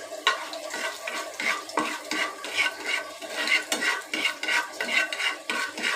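Fish frying in oil seasoned with salt and turmeric, with a soft sizzle under repeated rhythmic scraping and stirring of a utensil against the pan, close up and fairly quiet.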